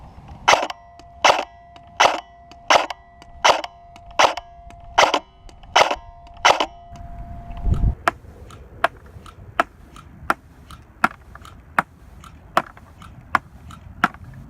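Krytac MK2 CRB airsoft rifle firing .25 gram BBs outdoors from about 100 feet back, a run of sharp, evenly spaced shots, each a crisp snap with a fainter tick of the BB arriving downrange.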